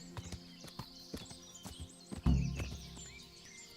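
Horse hooves clip-clop at a steady walking rhythm in the video game Kingdom Come: Deliverance, with a louder thud and rumble partway through and faint bird calls around.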